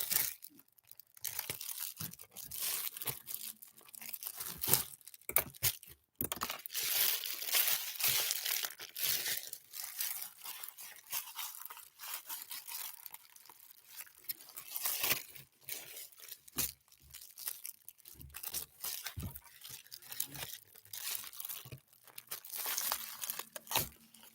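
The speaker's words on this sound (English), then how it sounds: "let's begin with the unpackaging, shall we?" Close, crisp crinkling and tearing of plastic and cardboard packaging as a 4K Ultra HD Blu-ray disc is unwrapped, in irregular bursts for over twenty seconds with no talk.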